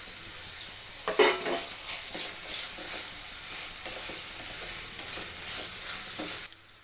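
Onions roast in a pan with cardamom, cinnamon and cloves, giving a steady hiss of frying broken by several clattering stirs of a spoon before the sound cuts off near the end.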